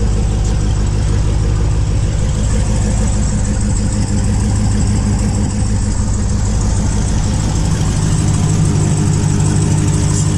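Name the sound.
2016 Dodge Challenger Hellcat engine idling after start-up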